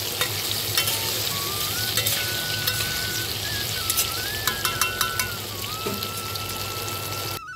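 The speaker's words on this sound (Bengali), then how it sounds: "আর হলুদ দিয়ে আমি আলুটা ভেজে নেব" Potatoes frying in a pan with a pinch of salt and turmeric, giving a steady close sizzle with occasional stirring clicks and scrapes and no talk.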